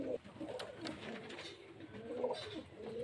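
Pigeons kept for sale at a house in Beldanga give soft, low, repeated coos that rise and fall, faint and close, with slight background noise.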